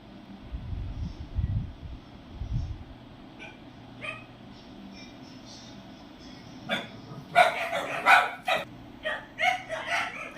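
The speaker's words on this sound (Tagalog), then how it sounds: "Ingay ng aso." A dog barks in a rapid series of sharp yaps in the second half, preceded by low rumbling handling noise and some faint background sounds.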